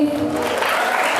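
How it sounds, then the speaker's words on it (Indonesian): An audience at an Islamic religious talk breaks into a short burst of applause, steady clapping filling the moment with no voice over it. "tepuk tangan untuk Alif."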